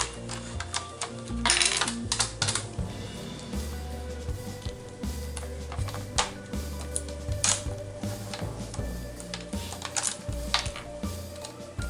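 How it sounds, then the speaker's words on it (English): Paper is cut along its edge with a paper trimmer or scissors, a close series of crisp clicks and slicing ticks running steadily over a low background hum. "I'm just going to cut this edge off."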